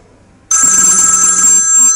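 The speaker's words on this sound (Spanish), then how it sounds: "si recibes una llamada, el timbre empieza a sonar" HTC phone ringtone for an incoming call: after a brief quiet moment, a loud, bright electronic ringing starts abruptly and keeps sounding.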